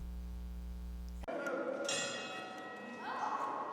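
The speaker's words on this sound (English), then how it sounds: "the bell getting this one underway" A ring bell clangs to start a tag-team match at a Southern States Wrestling show, a sharp metallic ring that decays amid crowd noise after an electrical hum cuts off.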